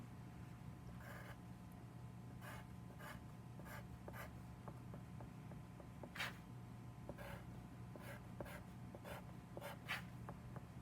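A pen draws a fraction tape diagram on paper, giving a string of soft, short scratching strokes at an even pace, quiet and close, with no talking.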